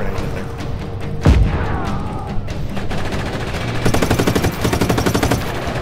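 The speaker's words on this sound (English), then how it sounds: "Let's throw a grenade in there" Gunfire and a grenade blast in the video game Just Cause 3: a sharp booming explosion early on among scattered shots, then sustained rapid machine-gun bursts toward the end, loud and close.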